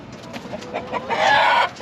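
Laying hens in a nesting box give a close, loud run of clucks that rise into a drawn-out squawk, inside a coop being moved back onto pasture.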